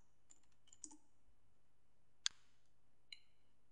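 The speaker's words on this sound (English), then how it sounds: "Type in the effects and preset search bar" A few isolated clicks of typing on a computer keyboard, faint and sparse, with three small sharp taps over near silence.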